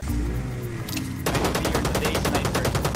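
An AK rifle in the shooter game Rules of Survival fires a rapid automatic burst of evenly spaced, loud, close shots after a brief lower rumble.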